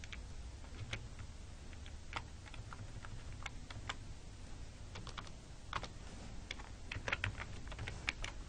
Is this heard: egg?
no